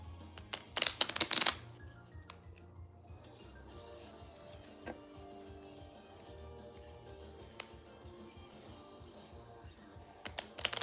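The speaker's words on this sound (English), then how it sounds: "Shuffle the weapons, oh great shuffler." A deck of board game cards is shuffled close by in a burst of rapid riffling at the start, followed by quieter soft card handling, taps and shuffling.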